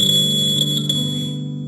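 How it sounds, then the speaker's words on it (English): A small electronic buzzer, set off by an ultrasonic sensor when a hand is held in front of it, sounds a continuous high-pitched tone close by, steady and loud for the whole moment. "So the buzzer is ringing if I keep my hand."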